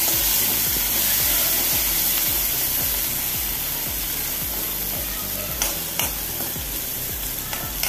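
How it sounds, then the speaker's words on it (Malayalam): Chopped tomato frying with onions in a pan for cauliflower curry, a steady loud sizzle with rhythmic stirring scrapes and a few sharp clicks near the end, no talking. "ഉള്ളി ചെറുതായി വാടി വരുമ്പോൾ 1 തക്കാളി അരിഞ്ഞത് ചേർത്ത് കൊടുക്കാം."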